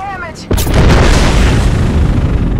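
A grenade going off in Apex Legends during a match, a sudden loud boom with a long rumbling decay right after a brief whistling lead-in.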